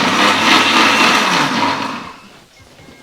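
A kitchen mixer grinder whirs loudly as it grinds tomato, herbs, coriander and pepper into paste, a dense high-pitched roar that winds down and fades, ending with a faint knock.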